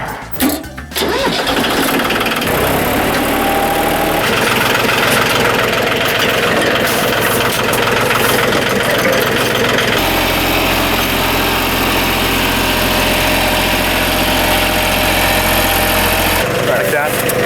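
A restored 1989 Yanmar 2220D tractor engine runs steadily and loud throughout, with a deep low rumble, and people talk nearby.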